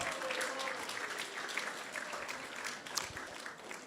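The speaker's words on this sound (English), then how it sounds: "So let's give a big round of applause to everyone who has joined us today." Applause from the audience at a Sunday Feast program at ISKCON of Silicon Valley, a dense, steady patter of many hands clapping that fills the whole stretch, with a faint voice briefly underneath.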